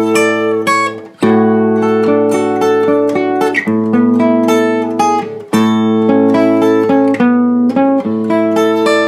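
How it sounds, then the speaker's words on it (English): Arpeggiated guitar notes from the intro of a song ring out one after another in a gentle repeating pattern, played up close and unaccompanied, with a couple of short breaks. "So once again, the intro with the arpeggio sounds like this."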